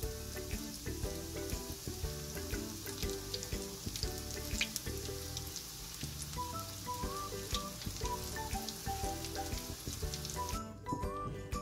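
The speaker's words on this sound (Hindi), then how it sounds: "अभी हम इसको फ्राई कर लेते हैं।" Chilli peppers deep-frying in hot oil for chilli bites, a steady dense crackling sizzle with scattered pops throughout, close and continuous with no talk.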